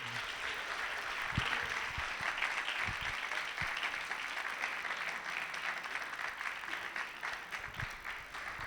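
Audience at a festival panel applauding to welcome a guest, sustained dense clapping with a few louder nearby claps and faint voices beneath.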